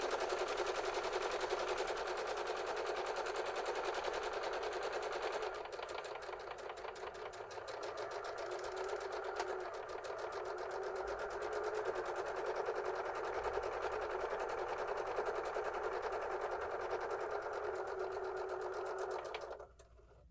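A sewing machine stitches a scrappy quilt block, running in a fast continuous mechanical rattle for nearly twenty seconds, with a slight change in pace partway through, before stopping abruptly.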